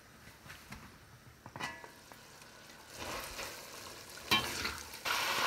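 Chicken mince cooks in a pan on low heat with a soft, uneven sizzle and occasional stirring scrapes and clinks, growing slightly louder toward the end.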